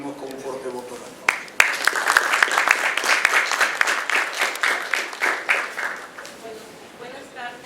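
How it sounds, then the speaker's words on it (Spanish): An audience at a university event on Quechua and Spanish welcomes a speaker with applause. A brief voice comes first, then loud, sustained clapping from many hands swells and carries on for several seconds before easing. "Con nosotros, Emérita Escobar, a quien recibimos con un fuerte voto de aplauso."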